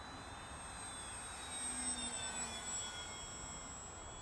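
Radio-controlled model airplane flying at half throttle, a steady faint distant whine with high thin tones that swells slightly midway, heard alone without talk.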